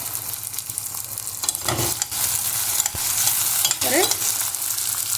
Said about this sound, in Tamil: தக்காளி நல்லா வதங்கட்டும். நல்லா அழகாக ஃப்ரை ஆகிடுச்சு.